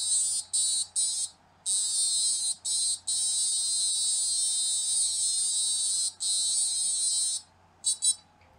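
Quadcopter brushless motors driven by BLHeli_S ESCs play a custom startup melody: a loud, buzzy, high-pitched electronic tone holds for long stretches, broken by brief gaps and short chirps near the end.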